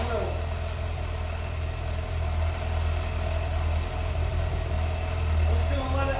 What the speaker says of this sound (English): I'm just going to let it idle for a while.